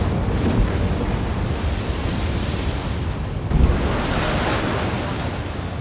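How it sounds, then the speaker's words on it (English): Big ocean waves pound against a crab fishing boat at sea, a loud continuous roar of surf and wind with a heavier crash near the middle, no talking. "Anytime you take a big wave, you have to start thinking, okay, is it time?"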